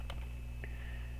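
A few scattered key presses on a computer keyboard, sparse and soft against a steady background hum, with no one talking.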